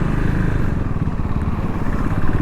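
Raw-sounding superbike engine idling and running steadily up close on a BS3 model bike fitted with an Apollo H1 tyre, a continuous loud throbbing rumble with no talk over it.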